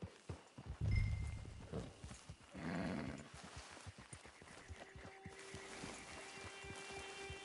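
Horse hooves clip-clop at a slow walk on a hard surface in the video game Red Dead Redemption 2 Online, with a soft snort and rustling mixed in. No one speaks.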